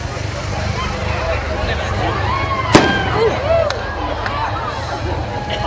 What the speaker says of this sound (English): So he's setting off fireworks.